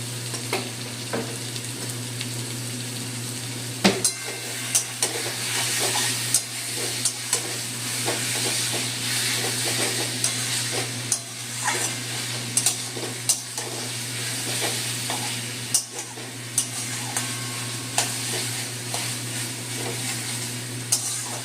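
Taro greens cooking with a hilsa fish head in a pan, a steady close sizzle and hiss with occasional sharp stirring clinks and scrapes throughout, with no talking.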